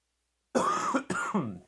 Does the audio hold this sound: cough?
yes